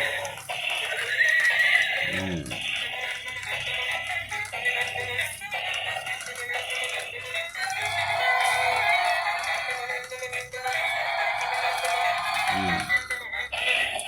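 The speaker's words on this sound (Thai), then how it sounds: "นี่ และก็คือ ม้าโพนี่ นี่ โพนี่ สีขาวนะครับ" A white pony neighs, its whinnies rising loudly over a busy background of clip-clop and rattling, with repeated calls spread across the stretch.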